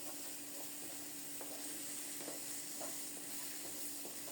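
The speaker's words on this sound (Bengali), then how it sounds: "মশলাটা কত সুন্দরভাবে কষানো হচ্ছে দেখুন, মশলা থেকে তেল ছেড়ে দিয়েছে।" Spice paste frying and being stirred in oil in a pot, a soft continuous sizzle broken by faint periodic scraping strokes of the spoon, quiet and without talk.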